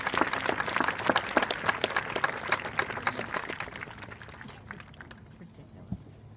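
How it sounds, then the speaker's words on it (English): Graduation audience at a vo-tech ceremony gives a round of applause for parents and adults, dense clapping that gradually tapers off and dies away near the end. "I would like you to give a round of applause to the parents and adults that got you here"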